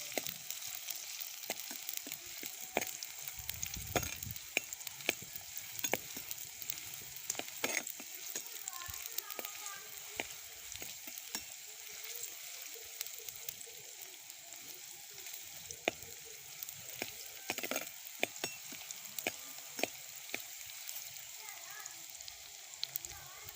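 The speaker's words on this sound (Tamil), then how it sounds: "கொஞ்சம் வெங்காயம் சேர்த்துக்கலாம்." Onions sautéing in a pan while preparing boiled egg fry, a steady close sizzle with scattered crackles and pops running throughout, no voices.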